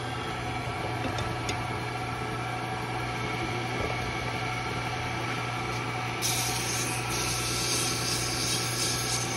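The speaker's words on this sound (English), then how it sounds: "Now on to 220. Let's kind of roll the sandpaper up in smaller pieces." A wooden Christmas ornament is sanded with rolled 220-grit sandpaper, likely on a spinning lathe, giving a steady hissing rub over a constant mechanical hum, brightening partway through, close and even.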